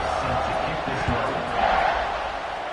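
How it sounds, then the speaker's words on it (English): A football stadium crowd roars in a broad, distant wash before kickoff, a steady swell with a brief rise, under a commentator's voice. "They're set to kick it off, and this crowd now ready to get behind them"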